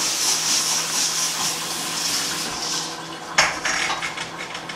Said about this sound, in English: you literally just shake it underneath the water.